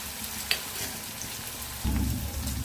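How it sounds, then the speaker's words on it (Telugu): Onions fry in a pan during the making of a beans and tomato curry, a steady close sizzle that swells louder partway through as they are stirred, with no one speaking. "ఆనియన్స్ ఫుల్గా చూడండి గోల్డెన్ కలర్లో వచ్చేసాయి కదా, బాగా వేగిపోయి."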